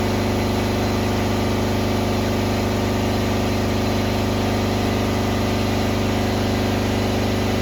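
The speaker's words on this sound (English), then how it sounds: "Alright, so air compressor just cut back off." Air compressor at a car wash running steadily with a constant mechanical hum and throb, loud and close, with no talking.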